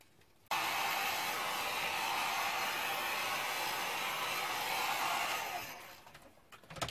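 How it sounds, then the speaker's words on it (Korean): A hair dryer dries clay pottery, switching on abruptly with a loud, steady blowing roar that holds for several seconds and then trails off as it moves away or winds down. "제가 드라이기를 살짝만 한번 말려보도록 할게요"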